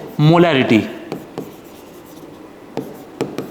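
A chemistry teacher writes a concentration term during a class lesson. A short burst of speech opens the clip, followed by scattered light writing taps and strokes in a quiet room.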